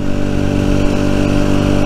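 A Rieju Century 125 motorcycle engine running steadily, a loud, close, even drone with a deep rumbling throb and no talk.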